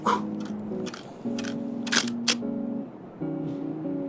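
Clicks from a camera shutter during a long-exposure light-blur shoot downtown sound a few sharp times over a steady, tonal night-street background hum.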